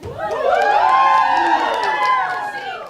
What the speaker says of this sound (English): How many of you want to cheer for Sean when he walks across the stage?